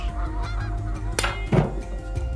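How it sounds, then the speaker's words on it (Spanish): Birds call in a jungle with loud, repeated honking cries over a steady low background, one louder burst standing out midway through. "El canto de los pájaros."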